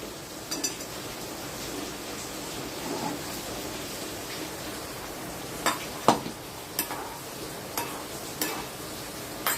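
Spinach curry is stirred and mashed in a pot, with soft bubbling and intermittent sharp knocks of a utensil against the metal.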